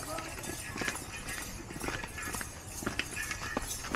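Horse hooves clip-clop on the descending trail to Hulugan Falls in Luisiana, Laguna, a steady string of sharp close hoofbeats with people talking outdoors alongside.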